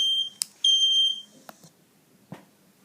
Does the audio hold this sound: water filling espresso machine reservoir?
no